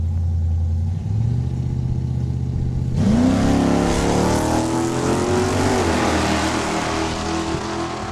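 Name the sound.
2014 Mustang and 78 Aspen Super Coupe launching at drag race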